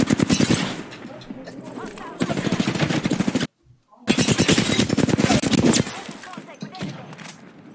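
Rapid automatic gunfire in the Apex Legends video game, loud bursts of fast repeated shots broken by a brief silent gap, then another long burst, with a player's voice over the shooting.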